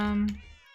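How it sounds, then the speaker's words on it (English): A cat in a video game server town gives one short, clear meow, a close tonal cry that fades quickly. "And again, more cats."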